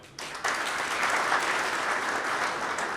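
Steady applause from a gathered staff at a retirement farewell swells in after a brief moment and holds as a dense, even roar of clapping.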